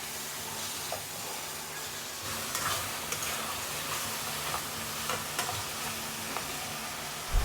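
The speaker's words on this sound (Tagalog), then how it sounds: "Igisa lang natin sa sibuyas yan mga katamad." Boiled meat sautéing with onions and garlic in a pan for ginisang sinigang: a continuous moderate sizzle and hiss, with a few faint stirring clicks, ending in a brief louder knock.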